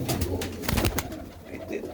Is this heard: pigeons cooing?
yes